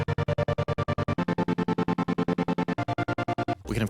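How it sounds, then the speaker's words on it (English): A synth chord chopped into a rapid, even 16th-note stutter by an auto pan effect in Ableton Live, pulsing steadily and fairly quietly before cutting off into a brief noisy tail. "now suddenly we have a sound that's stuttering at 16th notes"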